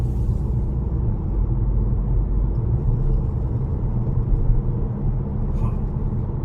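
A Kia K5 diesel car climbing a steep 20% hill, giving a steady low engine drone and road rumble from inside the cabin, continuous and fairly loud with no voices.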